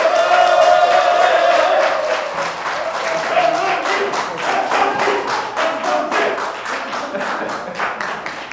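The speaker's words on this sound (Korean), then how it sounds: "올해와 같은 박수를 보내주셔야죠" An audience claps in welcome for a professor at a hybrid online and offline lecture event: dense, sustained applause from a room of people that holds steady for the full stretch, with scattered louder individual claps near the end.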